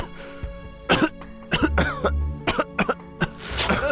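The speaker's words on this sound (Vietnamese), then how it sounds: "Cậu ho cùng ta đi." A person coughs and clears their throat in bursts of harsh, close, loud coughs, some single and some in quick clusters, with no speech.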